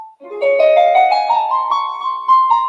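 A major scale plays on a single melodic instrument, clear sustained notes stepping upward one after another, close and fairly loud, with no voices.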